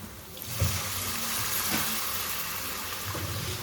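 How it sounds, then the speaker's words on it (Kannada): Chicken liver fries in hot oil with masala, sizzling and crackling in a steady hiss with occasional clinks of utensils, no talking. "ಈಗ ಫ್ರೈ ಆಗ್ತಾನೆ ಎಣ್ಣೆಡೆ"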